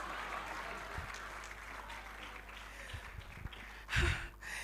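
Audience clapping at an architects' institute anniversary gathering, a soft, distant patter of applause throughout with a louder burst near the end.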